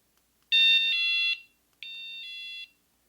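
Two high electronic chime tones from a METAK door alarm security system, each a two-part ringing note, close and clear with a short pause between them in an otherwise silent room.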